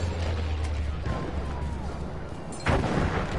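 Booming explosions and distant gunfire rumble through a Battlefield video game battle, with a heavier blast near the end under a continuous noisy backdrop.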